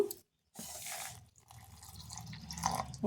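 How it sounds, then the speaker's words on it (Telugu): Water poured from a glass into a mixer jar while making beetroot halwa, a splashing, trickling pour after a brief silence that grows louder and steadier toward the end. "ఇలా నేను ఈ గ్లాస్తో నీళ్ళు వేసుకుంటున్నాను"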